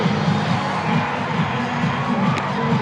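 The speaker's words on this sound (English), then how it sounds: "Give yourselves a round of applause" A large stadium crowd at a Banana Ball game at Truist Park cheers and shouts, a dense, roaring wall of voices with whoops rising throughout.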